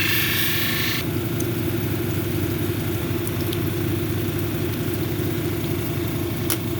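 A 280-grit lapidary grinding wheel shaping an epidote cabochon gives a loud, steady motor drone with a constant whirring hum, a brief brighter grinding hiss at the start.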